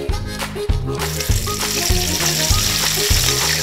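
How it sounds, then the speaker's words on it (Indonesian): Steady, dense sizzling of meat frying in hot oil, loud and close, with a few soft clinks and stirring sounds over the crackle. "Lanjut goreng dagingnya lur."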